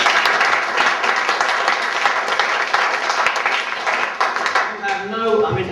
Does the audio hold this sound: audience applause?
yes